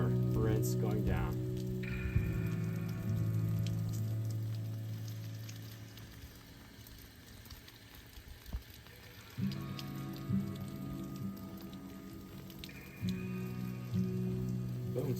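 Water-fed pole rinsing a window, a soft patter of spray hitting glass with a steady hum from the pump system, fairly quiet and continuous.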